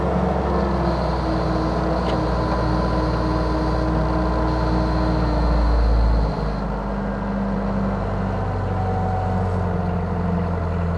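A Maximal M40x diesel forklift engine runs loud and steady as the mast lifts, with a deep rumble that swells briefly when the throttle is opened and then settles back to a constant drone.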